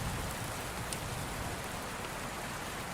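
Steady, even rain falls continuously, a dense soft hiss with faint scattered drop taps, moderately quiet and unbroken with no voices.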